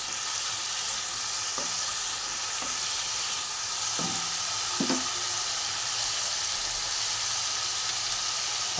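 Fried potatoes are stirred into spice paste in hot oil for a cauliflower and koi fish curry. A constant loud sizzle runs throughout, broken by a few soft knocks of a spoon against the pan.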